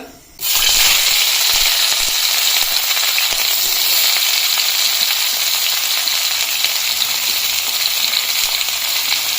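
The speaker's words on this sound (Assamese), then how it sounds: "এইখিনি অলপ টাইম বঢ়িয়াকৈ ভাজি ল'ম।" Loud, steady sizzling of onions and green chillies frying in oil for pork curry, close up and continuous after a quiet first moment, with faint stirring rattles.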